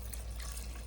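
Water pours steadily into rice for chicken biryani, a short continuous splashing fill at close range with no talking.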